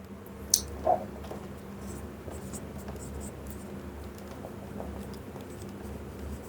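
Marker or chalk writing on a board during a physics lecture, soft scratchy strokes that come and go, with two sharper taps near the start over a low room hum, with no talking.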